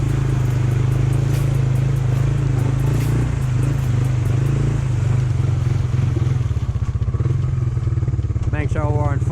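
A Honda 300 4x4 ATV driven in first gear through mud, its engine loud and close in a steady, throbbing drone that roughens and labours slightly near the end.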